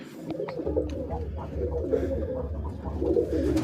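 Domestic pigeons coo close by in soft, repeated throaty phrases, with faint background noise and occasional light movement sounds.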